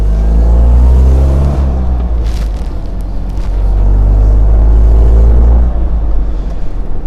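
An Autobianchi Bianchina Cabriolet Eden Roc is being driven, and its small engine gives a loud, steady, close-up drone with a deep rumble that swells gently as it pulls along.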